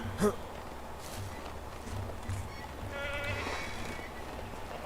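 Sheep bleat a few times at moderate distance in the video game Medieval Dynasty over a steady ambient hum, with light footstep-like taps in between.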